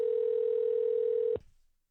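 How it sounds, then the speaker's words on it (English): A steady telephone dial tone hums for just over a second before cutting off abruptly, leaving a brief fading tail. "let's get the legend Jeff Lee on the phone"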